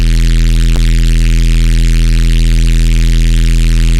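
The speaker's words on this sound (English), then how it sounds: "So it's basically adding some noise" A loud, sustained drum and bass noise bass made in the Vital synthesizer hums steadily with a hissing noise layer on top and a single brief click early on.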